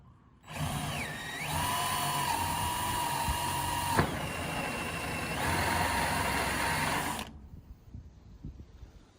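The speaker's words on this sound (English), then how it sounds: "Then you can use your metal bit to drill that hole" A high-pitched drill with a 3/8-inch metal bit whines steadily as it bores through metal, pitch dipping briefly under load, then cuts off abruptly near the end.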